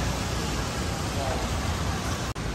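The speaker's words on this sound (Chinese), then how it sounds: "哇，又开始下雨了，" Rain falls on a busy food street on Lane 30 of Yongji Road in Taipei's Xinyi District, a dense, even hiss that continues steadily throughout.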